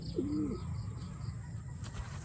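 A single low pigeon coo rises and falls early on, then a steady murmur of background noise continues without further calls.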